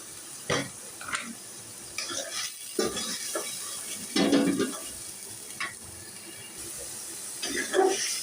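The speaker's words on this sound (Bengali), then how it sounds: "রসুন আর পেঁয়াজটাকে একটু ভেজে নিয়েছি" Onion and garlic paste frying in a pan for a desi chicken korma, with a soft steady sizzle under intermittent scraping stirs and the clatter of a spoon against the pot.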